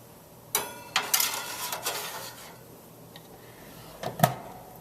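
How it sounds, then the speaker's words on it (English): A metal pan slides and clanks into a toaster oven holding an omelet topped with shredded Parmesan Romano cheese, giving several sharp, close metallic knocks and scrapes with a rack rattle near the end. "Popping the pan into the toaster oven."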